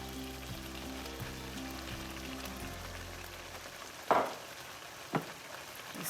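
Mushrooms and kale fry in a pan with a steady close sizzle as they are stirred, followed by two sharp clatters of a utensil against the pan.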